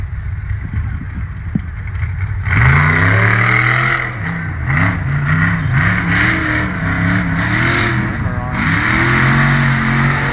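A supercharged 6-liter off-road race truck engine at a hill climb event rises from a rumbling idle into loud, close revving, with repeated swells in pitch and a deep growl.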